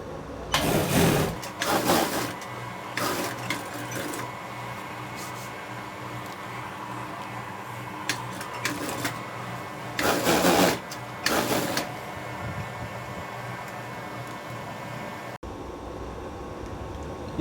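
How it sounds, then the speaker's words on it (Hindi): Industrial sewing machine stitching the back and front sleeve panels of a leather jacket together, running in several short bursts and longer runs with pauses between, close and moderately loud over workshop background noise. "बैक स्लीव और फ्रंट स्लीव को जोड़ा जा रहा है।"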